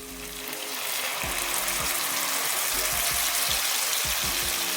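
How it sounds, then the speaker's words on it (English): Dry Italian Pinot Grigio pours into a hot pan of creamy mushroom chicken with garlic and thyme, building into a steady rushing hiss and sizzle with low bubbling pops underneath, close and loud. "Now we're going to get our wine in. I actually managed to find an Italian Pinot Grigio"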